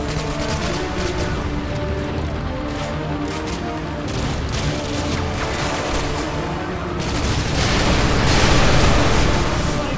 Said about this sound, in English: Okay, that was a big explosion.